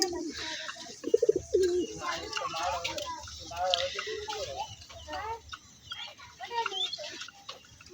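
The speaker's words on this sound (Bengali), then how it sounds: "আজকে আমি কথা বলবো আমার একজোড়া সিলভার কবুতর নিয়ে" A pair of silver pigeons coo repeatedly in soft, rolling bursts, fairly close, with a few louder calls early on and other faint bird sounds mixed in.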